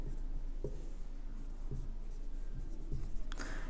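A number is written on a board in a maths lesson, producing faint, short scratchy strokes over a steady low room hum.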